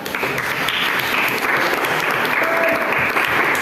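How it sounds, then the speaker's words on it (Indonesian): Students in a classroom burst into loud, dense applause that holds steady and close throughout, with no talking over it. "Oke, kita beri aplaus ya"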